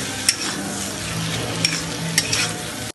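Spices with ginger-garlic paste sizzle in hot oil as a spoon stirs them, giving a steady close frying hiss broken by a few sharp scrapes against the pan.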